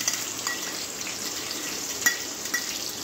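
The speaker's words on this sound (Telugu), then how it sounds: "ఇలా వేడైనాక ఆనియన్ వేయాలి." Onion added to hot oil with green chillies, garlic and fenugreek seeds, frying with a steady bright hiss and a few sharp spatter pops and light stirring clicks, close and moderately loud, no speech.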